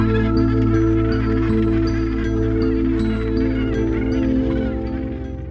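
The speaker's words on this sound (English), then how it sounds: "The gannet colony is growing by the day." Gannets at a crowded breeding colony call nonstop, a dense, loud layer of overlapping harsh, honking cries with no pauses.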